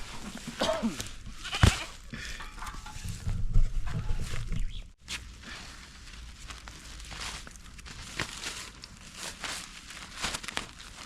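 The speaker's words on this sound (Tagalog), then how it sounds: "Kambing." Goats bleating close by amid rustling and shuffling, with crinkling noises and a brief loud knock partway through.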